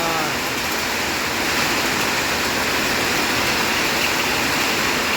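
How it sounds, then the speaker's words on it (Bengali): Heavy rain pours at Kamakhya railway station, a dense steady hiss of falling water that stays loud and even from start to end with no voices. "যাওয়াই যায় না এত বৃষ্টি।"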